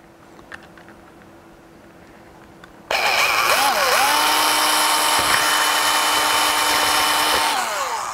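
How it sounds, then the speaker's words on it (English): A power drill whines loudly and steadily for several seconds, its pitch dipping briefly as it bores a small hole in a DIY LED light, after a quiet stretch at the start. "Poke a little hole in here with the drill."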